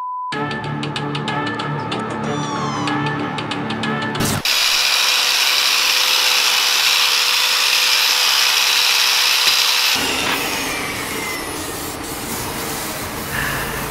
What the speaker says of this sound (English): Boys are already at it, hacking, sawing, grinding